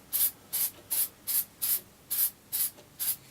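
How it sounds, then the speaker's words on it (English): Spray paint can hissing onto a Guyot 32oz backpacker bottle in eight short, evenly spaced bursts, each a bright, airy hiss of about a quarter second, close and fairly loud with no talk. "I was just spraying it like that"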